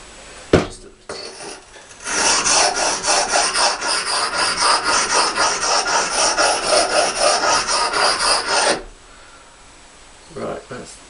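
An axe edge is honed by hand with a sharpening stone, giving a steady run of rhythmic gritty rasping strokes, close and loud, for several seconds, with brief knocks of handling before and after.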